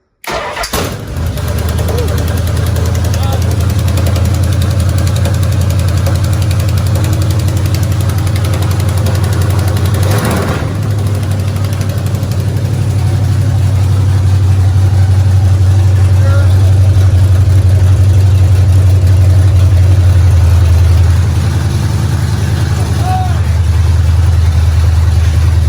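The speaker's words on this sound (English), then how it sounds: "Grind some gears on the starter." A 1969 Dodge Charger dirt track car engine cranks on the starter, catches and settles into a loud, steady, rumbling idle that runs on close by with slight shifts in pitch.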